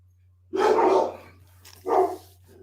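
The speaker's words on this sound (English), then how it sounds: "They're barking at the little gal across the street that came out." Dogs bark at someone across the street: two clear, fairly close barks, the first longer and louder, the second shorter, over a steady low hum.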